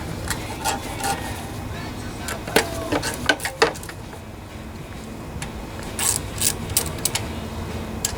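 A ratchet tightens the mounting bolts on a Briggs and Stratton lawnmower, sounding as bursts of quick metallic clicks at close range, separated by short pauses.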